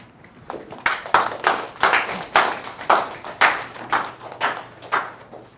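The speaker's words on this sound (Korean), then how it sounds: "나오셔서 발표해 주시면 큰 박수 부탁드립니다." An audience at a university TED-style talk claps in steady, rhythmic unison beats, about two per second, welcoming a painter to the stage. The clapping is fairly loud and close, with no talking over it.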